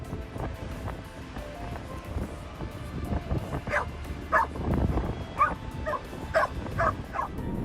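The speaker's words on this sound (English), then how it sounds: "This guy is back from a long trip and his dog is overjoyed." An overjoyed dog greets its owner home from a long trip with a string of excited, high yips and whimpers, quiet at first and then quicker and louder over wind and outdoor rumble.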